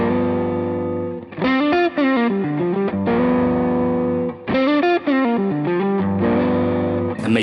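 Electric guitar played through a Grammatico GSG100 amp model on a Line6 Helix, with distorted, rock-switch drive: melodic phrases and sustained chords, loud and clear with brief gaps between lines.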